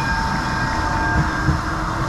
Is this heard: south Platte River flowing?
no